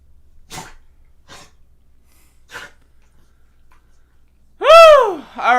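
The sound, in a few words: dog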